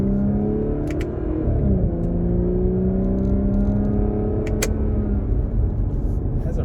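An Audi S5 Coupe's adaptive exhaust drones and rises in pitch as it revs and shifts, a steady close rumble with brief speech over it.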